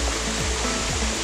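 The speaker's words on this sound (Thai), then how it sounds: "มันเป็นน้ำตกลงมาจากข้างบน" A natural waterfall in Saraburi, Thailand, water dropping from above into a knee-deep pool, gives a steady, dense roar of rushing water, close and unbroken with no voices.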